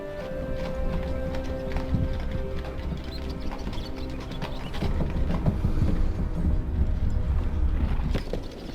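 Horses trot in Medieval Dynasty, with an irregular clip-clop of hooves alongside creaking cart mechanisms and faint birdsong, steady and fairly close.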